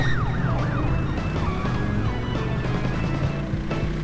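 Wailing police car sirens from the racing video game Crash Bandicoot Warped rise and fall repeatedly over a steady engine-like drone and game music, loud and continuous throughout.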